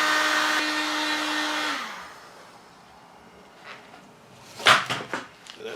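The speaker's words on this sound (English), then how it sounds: "We'll just go ahead and do it the old-fashioned way, and by that I mean with the heat gun" Heat gun molding a kydex headliner panel in a Piper Supercub Widebody, blowing as a steady loud airy roar with a faint tone that cuts off after two seconds, followed by quiet handling knocks and rustles.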